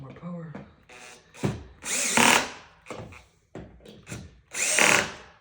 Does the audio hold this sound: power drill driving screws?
yes